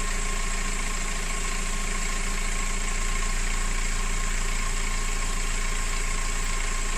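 An Opel Vectra B with a 2.0 DTI diesel engine idles in a steady, unbroken clatter with a low rumbling hum, close and constant throughout with no speech.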